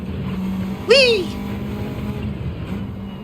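Abarth race car in Gran Turismo 7 during a Nations Cup qualifying lap: a steady, droning engine hum runs throughout, with a brief rising and falling whine close up near the start.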